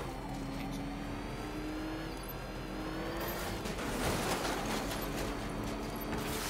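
Tank rumbling and driving through obstacles in Batman: Arkham Knight, a steady engine drone with a rising rev and crunching impacts midway, loud and continuous with no talking.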